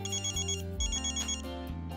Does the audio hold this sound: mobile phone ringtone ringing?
yes